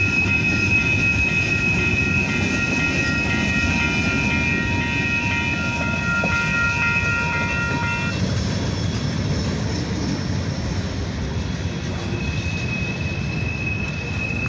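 Freight train ending with tank cars rolling past nearby, a loud steady rumble of wheels on rail with high metallic squealing tones in the first half that fade as the last cars pass.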